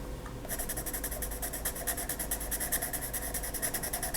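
A colorless blender pencil rubs across paper to blend colored pencil, making a close, rhythmic scratchy stroking that repeats steadily after a brief quiet start.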